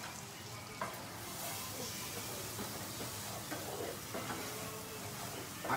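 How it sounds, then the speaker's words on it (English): Onion frying in a pan, cooked alongside chicken sausage and rice, makes a steady, fairly quiet sizzle and hiss with occasional stirring clicks, heard close and without speech. "I cook a little bit of the onion."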